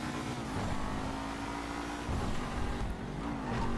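A car engine revs and accelerates in a GTA video game, a steady droning roar with slight pitch shifts, heard fairly faintly and alone.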